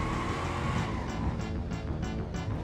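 A classic 1996 Impala in the BeamNG Drive driving game, its engine droning steadily at close range with a continuous low rumble and faint rhythmic pulsing throughout.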